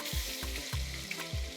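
Prawns frying in a crowded pan of hot oil, a steady close sizzle with several sharp bursts of spatter as pieces are added one after another.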